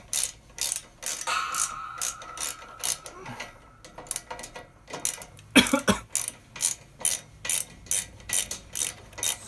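A ratchet wrench spinning loosened muffler nuts off a Mazda ND Miata, a close series of rapid clicking bursts in an even rhythm with a brief metallic clatter midway.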